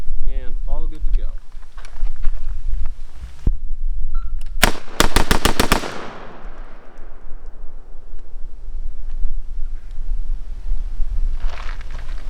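Rapid string of AR-style rifle shots during a trigger test, about five sharp, loud cracks in quick succession with a ringing tail, preceded and followed by talking.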